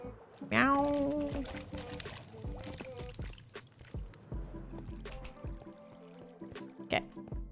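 Water is placed and flows in Minecraft, a soft pouring and trickling that gives way to gentle watery flow as a person talks over it and other small game sounds intermittently.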